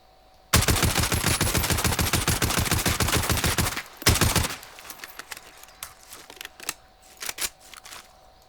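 Rapid full-auto bursts from the ODEN rifle in Call of Duty Warzone: a loud, fast steady stream of shots for about three seconds, a short second burst, then quieter scattered clicks and taps.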